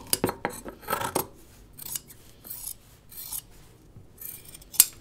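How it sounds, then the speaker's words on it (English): Big, slightly dull scissors snip around the perimeter of fabric on a sewing project, a burst of quick close cuts and rasping blade strokes followed by scattered single snips, with no talking. "now I'm going to trim around the perimeter. I'm going to use my big scissors"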